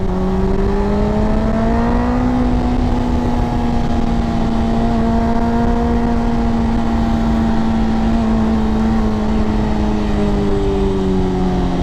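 A Suzuki GSX-R 600 motorcycle engine drones loudly and continuously, rising slightly in pitch early on and then holding a steady high tone for several seconds.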